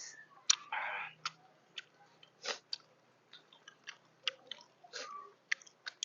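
Close, wet chewing and crunching while eating Thai fermented fish (pla som), irregular bites and smacks at close range with quiet gaps between them.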